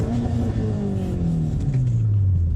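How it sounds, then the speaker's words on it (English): A 2015-2019 Subaru WRX STI running E85 launches hard with a flat-foot shift. The engine revs loud and close, its pitch falling as the car pulls away, with a steady rumble throughout. "So I'm gonna step on the gas, let out the clutch just a little bit. Flat foot shift"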